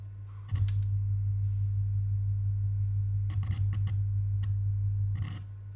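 A steady low sine tone hums from a speaker in an active noise cancellation test setup, with one side disconnected. It stays constant throughout, with a few faint clicks and ticks over it.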